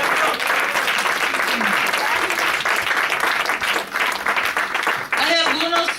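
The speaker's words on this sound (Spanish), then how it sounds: "Denle un aplauso al Señor." A church congregation claps for the Lord during a Spanish-language service, steady loud applause filling the hall for several seconds, with voices rising over it near the end.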